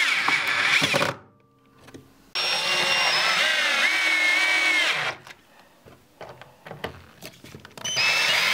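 Power drill pre-drilling screw holes in wood while assembling a rabbit hutch, two sustained whining bursts of a few seconds each with quieter workshop handling noises between them.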